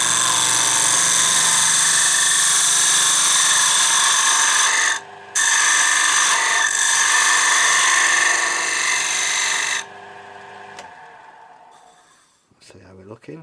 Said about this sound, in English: and I'm going in with the skew tool.